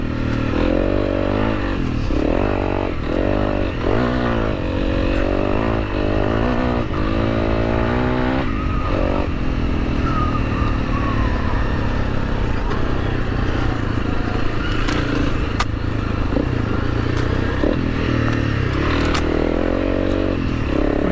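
A Honda CRF300L motorcycle rides a rough farm track, its single-cylinder engine droning steadily and close throughout, with shifting revs, rattles and scrapes from the uneven ground.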